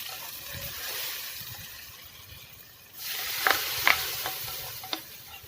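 Onions slowly added to a hot clay pot sizzle and crackle as a Kerala fish curry (meen vattichathu) gets started, a steady frying hiss that jumps louder midway, with a few sharp pops near the end.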